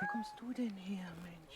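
A farm cat meows in a drawn-out, wavering cry while a person speaks softly nearby, the meow rising and sliding over a little more than a second indoors.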